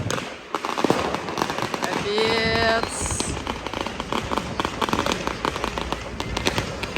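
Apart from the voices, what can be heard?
firecrackers exploding on Sant Joan night in Barcelona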